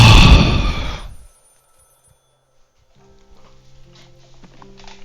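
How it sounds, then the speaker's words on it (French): Telephone ringing in the horror video game Maid of Sker: a loud, harsh bell ring fills the first second, then cuts off into near silence followed by faint shuffling and movement sounds. "Bon, je réponds au téléphone"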